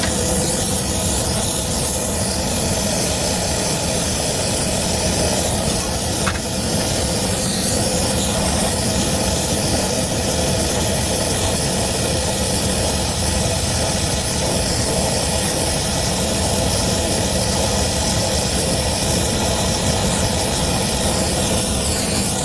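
Steady roaring hiss of a torch flame heating a copper pipe joint during an emergency HVAC repair at a restaurant, loud and continuous throughout with no talk.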